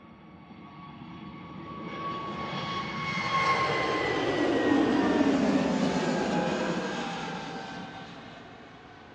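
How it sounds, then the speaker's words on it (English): An easyJet Airbus A320neo jet departs Manchester Airport, its engine roar swelling from a distant whine to a loud broad rumble overhead and then slowly fading, heard alone. "EasyJet departing in front of us here to Belfast."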